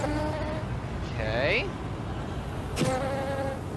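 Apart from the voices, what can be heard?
bees buzzing in a video game about bees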